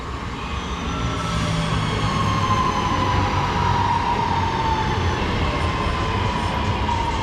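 A British Rail Class 323 electric train rolls into a station with a steady, loud rumble and a faint whining hum, wheels droning continuously with no voices.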